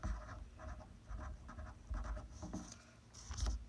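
A marker scratches across a board during a math lesson on graphing systems of equations, with faint, rhythmic bursts of short strokes and pauses between them. No one speaks.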